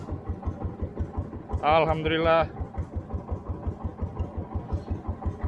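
A fishing boat's engine idles while fishing for snapper, knocking in a steady, close, even pulse throughout, briefly covered by a loud excited voice.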